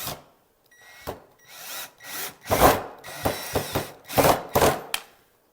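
A power drill whirs in several short bursts as a screw is driven in, with brief pauses and some rubbing between runs, close by.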